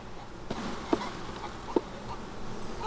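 Honeybees from a hive with small-cell foundation are shaken off a brood frame, a steady low insect drone with two sharp knocks of the frame being jolted, no voices.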